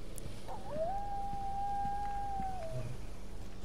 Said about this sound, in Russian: Опять волк воет, что ли? Или собака?